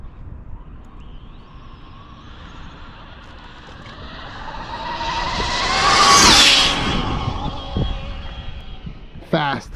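A quad-motor RC toy car built for extreme speed races past, its high-pitched electric whine rising to a loud peak around the middle as it nears and then fading as it speeds away, over steady outdoor background noise.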